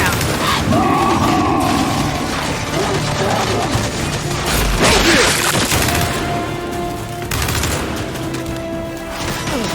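A frag grenade explodes in the video game Gears 5 amid loud, dense combat noise, with a heavy booming blast rising out of the constant din of gunfire and clatter.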